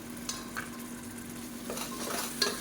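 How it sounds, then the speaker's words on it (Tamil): Chopped tomatoes sauté in hot oil for mutton biryani, with a soft steady sizzle and a few light scraping strokes of a spoon against the pan. The sound is quiet and close, with no voices. "அந்த அளவுக்கு தக்காளியை நல்லா வதக்கி விட்டுக்கலாம்."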